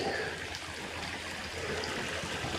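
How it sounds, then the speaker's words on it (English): A creek at the back of a rural California acreage flows steadily, a continuous close rushing and trickling of water with no voices. "You got the creek at the back."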